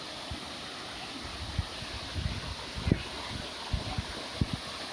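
Broad, steady roar of a large waterfall in Asia fills the scene at a moderate level, with low thumps of wind buffeting the microphone throughout.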